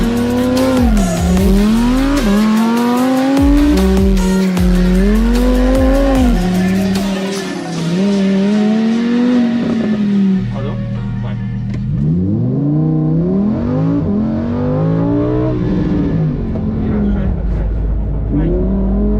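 A Lamborghini Huracan Evo screams loudly around the Imola race track, its engine rising through repeated high revving pulls with gear changes and brief lifts, heard from onboard with a driver's voice speaking over it.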